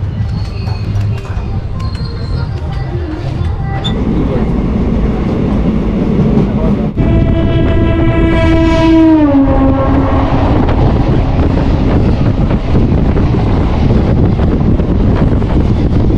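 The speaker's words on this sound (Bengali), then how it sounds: "কাটোয়া ঢোকার আগে ট্রেনটি এখন দাইহাটে এসছে।" The Teesta Torsha Express, a loud, rumbling train, rolls along and slows into Dainhat station, brakes rising into a long squeal before the heavy rumble continues, with wind buffeting the microphone.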